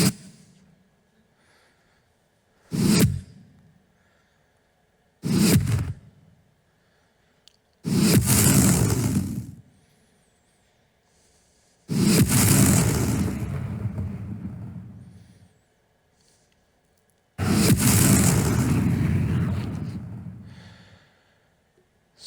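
Layered explosion sound effects built in Wwise Strata, played as a series of separate bursts, two short punchy hits followed by three longer booming blasts with decaying tails, loud and isolated.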